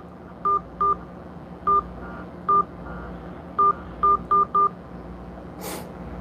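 A telephone is dialed, producing a series of short, distinct keypad tones. The beeps come in an irregular rhythm over a low background hum, and a brief burst of noise follows near the end.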